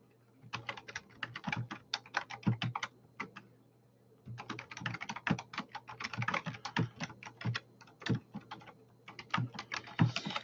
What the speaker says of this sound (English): I got to come over here and type something to Anthony.